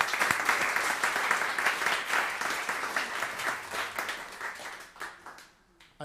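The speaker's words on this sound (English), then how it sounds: "He's here today, and he deserves an applause." Audience applause fills the Solomon Mikowsky Recital Hall at the Manhattan School of Music during its opening concert: dense, steady clapping that thins out and fades toward the end.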